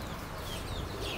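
A chicken clucks at a pet shop: a brief burst of soft clucking over a faint, busy background, with no talking.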